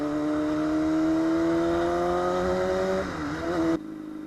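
A motorcycle being ridden, its engine holding a steady droning hum with rising pitch that dips and shifts near the end before cutting off, close and loud over wind rush.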